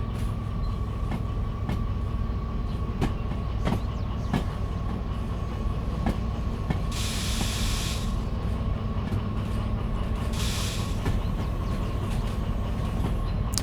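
Train cars rolling along track in the Derail Valley railway simulator, a steady low rumble with regular clickety-clack joints and two bursts of hiss near the middle.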